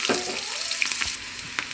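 Steady close sizzling from onions frying in a pan, with a few light clinks and stirring scrapes. No voices.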